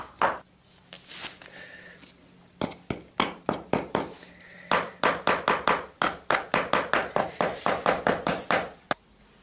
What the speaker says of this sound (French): on va écraser les morceaux de litière au marteau